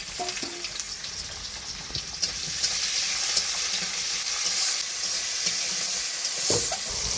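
Chopped onion, tomato and green chilli fry in a pan over whole spices, a close, dense sizzle that swells after a couple of seconds as the vegetables are stirred, with scattered clicks of the spoon and no talking.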